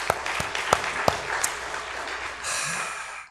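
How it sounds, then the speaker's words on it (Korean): A congregation applauds during a Sunday worship service in a church, with a few distinct claps at first, then a soft, steady wash of clapping from across the room. "박수로 격려 한번 해주세요."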